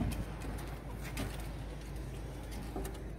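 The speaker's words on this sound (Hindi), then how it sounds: "ये कबूतर हैं जी, चेक करें, कबूतरों स्टैंड चेक कर लें।" Pigeons kept in a stand or loft with a male and two females, cooing softly and continuously at close range against a steady low background hum.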